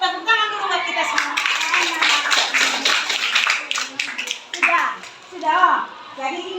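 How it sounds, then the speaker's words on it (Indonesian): A classroom of children claps together, bursts of many small hands with children's voices and chatter mixed in throughout. "Tepuk tangan dulu buat kita semua."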